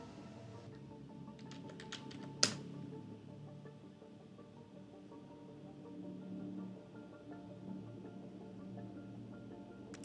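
Soft keystrokes tap on a computer keyboard in a quiet room while a password is entered, a short run of quick clicks, then one sharper key press over a low hum.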